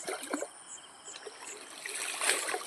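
Water trickles and splashes steadily out of a fish trap holding prawns, a close, continuous dribble that swells a little toward the end, with no voices.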